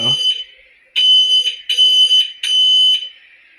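A piercing SimpliSafe Gen 1 electronic smoke detector beeps in long repeated bursts, loud and close, with a brief bit of speech at the very start.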